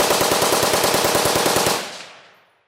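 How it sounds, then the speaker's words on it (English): An M60 light machine gun fires a fast, steady burst of loud, evenly spaced shots for nearly two seconds, then the report rings off and decays into silence. "we bring you the ultimately American machine gun,"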